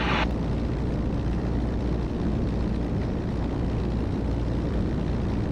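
A bush plane's engine drones steadily in a close, loud, unbroken rumble with wind noise as it descends on landing approach with two notches of flaps down.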